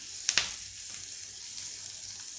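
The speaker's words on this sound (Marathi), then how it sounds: "हा जो आपण मसाला केला आहे हा आपण तेलात घालून घेणार आहोत मसाला आपण परतून घेणार आहोत तेलात" Homemade spice masala hitting hot oil, a soft steady sizzle with a couple of sharp clinks near the start, fairly quiet and free of speech.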